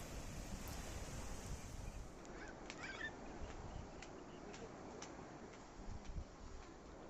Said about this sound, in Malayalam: കടലിൻ്റെ ആരവം കേൾക്കാം